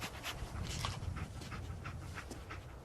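Dogmeat, the German Shepherd companion in Fallout 4, pants steadily in quick rhythmic breaths over a low rumbling game ambience, close and moderately loud throughout.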